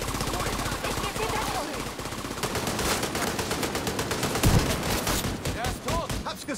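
Rapid bursts of automatic gunfire crackle loudly and continuously, with scattered single shots mixed in, from the video game The Division 2.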